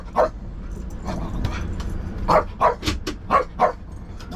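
Dog barking inside a gas RV, a series of short sharp barks and yips in quick bursts, close by over a low engine hum.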